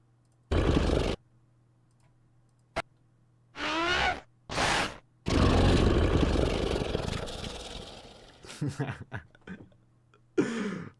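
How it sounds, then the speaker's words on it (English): In the Bleach: Brave Souls mobile game, a character's attack gives off a loud, rough, engine-like revving roar. It arrives in several bursts, the longest a sustained rumble of a few seconds, with brief gaps between them. "this literally sounds like a motorbike engine."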